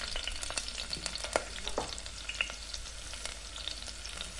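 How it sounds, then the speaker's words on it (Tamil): Two medium chopped onions with green chilli fry in oil in a pan for mutton biryani, giving a soft, even sizzle broken by frequent light scraping and stirring clicks. "ஆனியன்ஸை நல்லா கோல்டன் ப்ரௌனாக குக் பண்ணிக்கோங்க."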